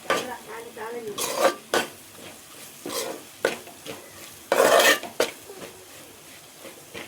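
Fried onions and ginger stirred in a pan for an egg thoran, with a spatula scraping and clacking in repeated bursts over a low sizzle.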